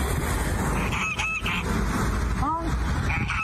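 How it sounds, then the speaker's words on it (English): Goose honking during a game, a couple of short nasal honks in the middle and a fainter one near the end, over constant background noise and music. "Oh, you're such a wholesome little goose."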